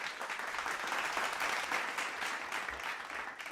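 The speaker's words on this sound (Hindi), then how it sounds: "साथ ही मैं श्री आशुतोष शुक्ल जी को भी मंच पर आमंत्रित करती हूँ आप सबकी ज़ोरदार तालियों के बीच" Loud applause from the audience at a Dainik Jagran Samvadi event welcoming speakers to the stage, a dense, continuous roar of clapping that stays strong throughout the short stretch without any voices.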